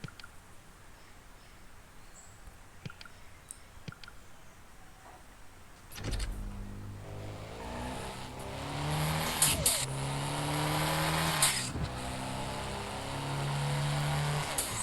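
A Honda Civic engine in a racing video game, quiet at first with a few clicks, then revving up and holding a rising, droning note that grows louder and steadier, with no voices.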